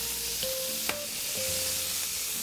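Rabbit pieces sear in a hot pan on a home stove for a rabbit stew, giving a steady, close sizzle with faint clinks and brief tonal squeaks.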